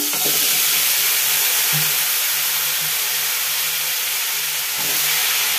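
Dried fish heads fry in a pan for an Andhra-style stew, giving a steady, loud, close sizzle and hiss with occasional stirring scrapes throughout, and no talking.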